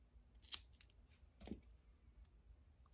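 Scissors snip through strands of false hair being trimmed for the eyebrows: two quiet, close, crisp cuts about a second apart, with near silence around them.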